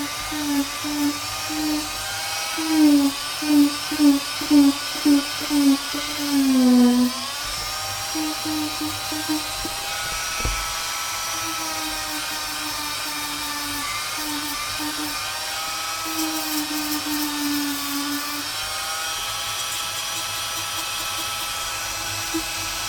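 A Dremel rotary tool grinds foam in bursts, giving a series of short buzzing pulses followed by longer steady whines and a pitch drop, with quieter gaps between the runs.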